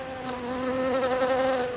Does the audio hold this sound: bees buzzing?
yes